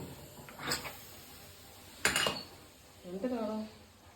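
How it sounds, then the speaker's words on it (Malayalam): Puttu being knocked and turned out of its mould into a dish, a few clattering metal-and-dish knocks with a sharp bang midway, while people talk over it. "പുട്ട് മറിക്ക് പാത്രത്തിലോട്ട് മറിക്ക്."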